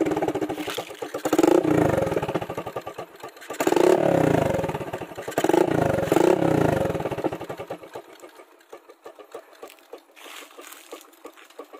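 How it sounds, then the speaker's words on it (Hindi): A modified Honda Splendor motorcycle with an aftermarket exhaust revs up close and loud in several rising bursts, then settles to a steady popping idle. "तो अभी रहा इसका एग्जॉस्ट साउंड"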